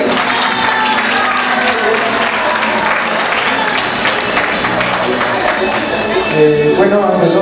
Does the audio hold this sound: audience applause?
yes